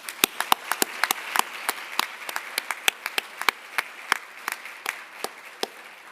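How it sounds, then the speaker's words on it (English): An audience at a fall luncheon applauding, a scattered patter of individual claps at a moderate pace, fairly sparse and steady throughout. "offer another round of applause to our sponsors"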